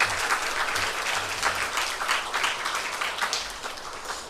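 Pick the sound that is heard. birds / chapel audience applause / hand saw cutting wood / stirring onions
chapel audience applause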